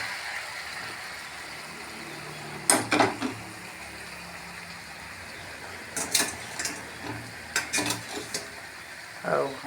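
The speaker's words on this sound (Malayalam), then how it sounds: "അത് കഴിഞ്ഞിട്ട് പതുക്കെ ഇളക്കി അങ്ങ് മിക്സാക്കുക." Boiled tapioca being stirred with pork in a pan, a soft steady sizzle with a few bursts of scraping near 3, 6 and 8 seconds, close and moderate in loudness, with no talking.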